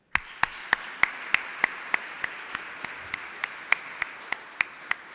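Congregation at a Catholic Mass in Asunción, Paraguay applauding in a steady rhythmic unison clap, about three claps per second, with sharp evenly spaced hits over a soft room murmur.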